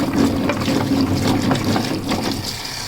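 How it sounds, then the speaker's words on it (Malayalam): Gooseberries are washed by hand in a basin of water, making close, loud, continuous sloshing and splashing with soft swirls throughout. "അപ്പം നമ്മൾ പറിച്ചുകൊണ്ട് വന്ന നെല്ലിക്ക മുഴുവൻ ഒരു ബേസിനിലോട്ടിട്ട് കഴുകി എടുക്കാം."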